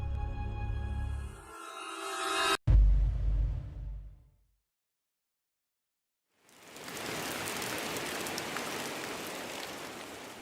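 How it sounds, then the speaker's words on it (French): Heavy downpour falling on a forest, a dense broadband hiss of rain that fades in after a stretch of silence and holds steady, preceded by a brief mixed rumbling passage. "Une pluie diluvienne s'abat sur la forêt"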